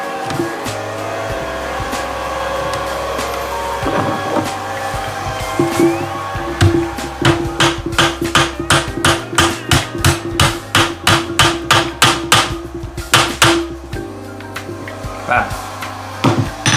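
Small nails being hammered into the wooden hull of an HMS Endeavour model ship, a run of sharp, rapid, close taps in quick bursts that speed into a steady rhythm, loud and clear over a faint background hum.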